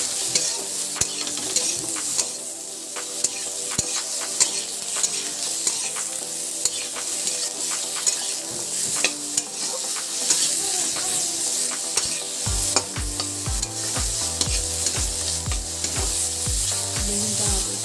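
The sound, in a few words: eggplant frying with salt and turmeric in a pan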